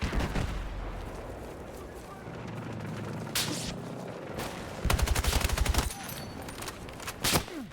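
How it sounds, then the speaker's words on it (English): Battlefield video game gunfire: bursts of rapid machine gun fire crackle amid a busy battle, with a dense loud stretch near the middle and sharp isolated shots and booms around it. "Hostile machine gun inside!"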